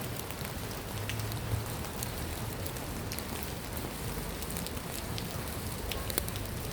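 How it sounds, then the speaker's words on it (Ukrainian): Warm spring rain in Odesa falls steadily on outdoor surfaces, a dense continuous patter with scattered louder drips, close and unbroken throughout. "ось така весна з теплим дождем, дощем"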